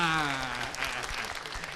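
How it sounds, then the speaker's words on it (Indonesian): An audience at a community event in Temanggung gives a round of applause, a dense, continuous patter of clapping heard alongside a sustained tone and some voices. "Kita beri tepuk tangan yang meriah."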